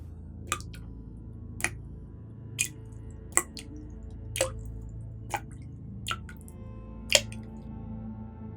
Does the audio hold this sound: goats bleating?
no